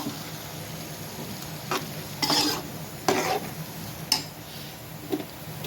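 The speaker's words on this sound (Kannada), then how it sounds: "ಚೆಂದಾಗೆ ಮಸಾಲ ಅಲ್ಲಿ ನೀಟಾಗಿ ಫ್ರೈ ಆಗಬೇಕು." Mutton masala frying in a pan, with a soft sizzle underneath and a few scraping stirs of a spoon against the pan at irregular intervals, close and fairly quiet, with no talk.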